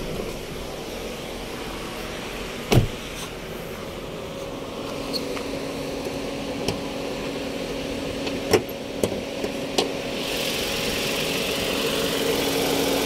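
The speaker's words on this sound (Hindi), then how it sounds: "आप देख सकते हो काफ़ी साइलेंट इंजन है" A 2022 Tata Altroz XZ+ manual with a 1.2 litre petrol engine idles with the bonnet open. It gives a quiet, steady hum with faint tonal whine, and a few scattered clicks and taps occur nearby.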